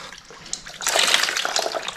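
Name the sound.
excess water dumped out of paper brick mold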